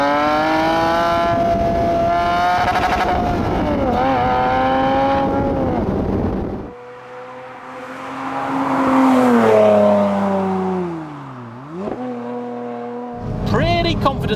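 A 320 hp 3.5-litre V6 in a Toyota MR2 revs hard on the move, its rising harmonic wail climbing, dropping with gear changes and easing off before surging again, loud and close throughout.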